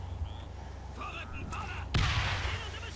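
Grenade blast in the shooter game Crysis: a sudden loud explosion lands partway through, following a stretch of gunfire and game noise, then fades into a rumbling tail.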